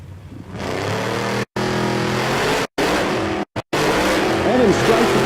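Drag race cars launch hard down the strip with loud, continuous engine roar and rising revs, broken by several abrupt cuts, the pitch sweeping upward near the end.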